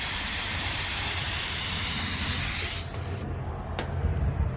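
Pressurized gas vents from an HVAC system during a compressor replacement in a loud, steady hiss that cuts off abruptly, followed by a few faint clicks and handling noises.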